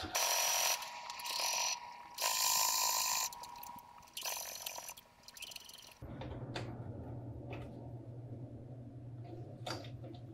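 Sewing machine stitching along the top edge of a fabric tool roll, loud close bursts of mechanical clatter that stop and start, then a quieter steady hum with faint clicks.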